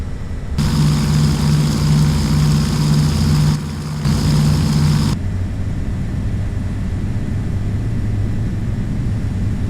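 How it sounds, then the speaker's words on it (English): A DC-3's twin propeller engines in Flight Simulator X drone loudly with a strong low tone, dipping briefly midway, then the engine note shifts to a lower, rougher roar for the rest. "Taking off in the DC-3 is easy. Just line up with the runway and push the throttle forward all the way."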